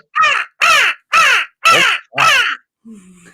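A person imitates a crow with five loud, evenly spaced caws, each harsh and clipped, followed by a brief low murmur at the end.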